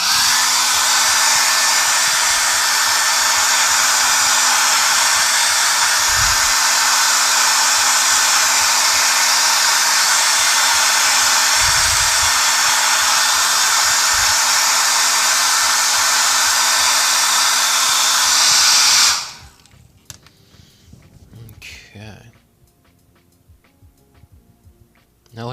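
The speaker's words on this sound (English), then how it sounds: "let's blow dry it real quick" A hair dryer blows close by on a freshly painted canvas, a loud steady whir with a faint high whine, running for about nineteen seconds before it switches off, leaving quiet handling noises.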